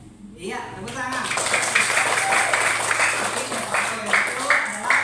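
Elementary school pupils clap in a classroom, irregular bursts of hand claps under and between a teacher's talking, with some children's voices mixed in.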